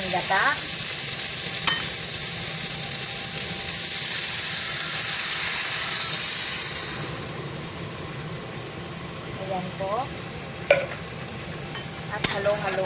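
String beans (sitaw) cooking in a pan for a coconut-milk salmon head dish, a loud steady sizzle and hiss that drops noticeably about halfway, followed by softer frying with occasional clinks and scrapes.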